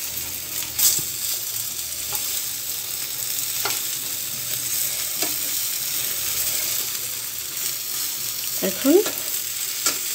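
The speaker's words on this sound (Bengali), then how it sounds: "আমি কিন্তু বেগুনটা খুব কম তেলে ভাজতেছি" Eggplant slices frying in a small amount of oil, giving a steady soft sizzle throughout with a few light clatters near the end and a brief spoken word.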